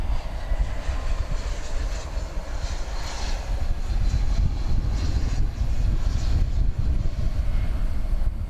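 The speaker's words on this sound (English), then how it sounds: "Got an Airbus A321 coming in from San Diego" An Airbus A321 airliner arrives at DFW Airport at night, a continuous low engine rumble with a rushing, slightly fluctuating roar that swells and eases throughout, with no speech present.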